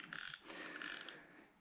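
Drag of a Daiwa 5000C QD fishing reel fitted with carbon washers, giving a rapid ratcheting click in two short bursts, close and fairly quiet, with no talking.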